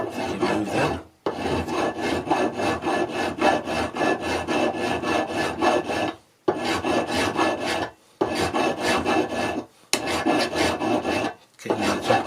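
A file rasps steadily across a metal rail clamped in a vise while building a model railway turnout, loud and close, in long rhythmic stroke runs broken by brief pauses.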